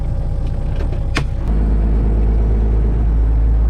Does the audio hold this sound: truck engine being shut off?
yes